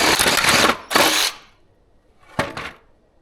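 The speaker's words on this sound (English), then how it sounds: "we have a different Ryobi saw" A Ryobi power saw cutting wood runs in two loud bursts close together, then stops and gives one shorter final burst after a pause.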